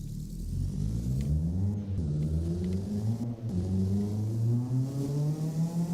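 Car engine in the Apex Point driving game revving steadily on a dyno, a loud continuous mid-pitched drone with rising and falling harmonics that swell as the revs climb, heard alone.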